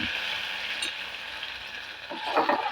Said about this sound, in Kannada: ಇವಾಗ ನಾನು ಈ ರಸಕ್ಕೆಲ್ಲ ರುಬ್ಬಿದ್ನೆಲ್ಲ ಈಗ ಹಾಕ್ತೀನಿ